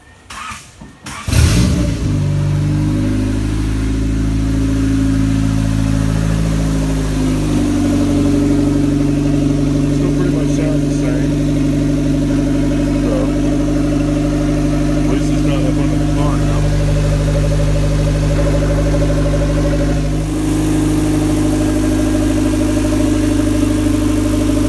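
A turbocharged D16 engine in a 1989 Acura Integra cranks briefly and catches, then settles into a loud, steady idle with a deep drone that holds throughout, close by.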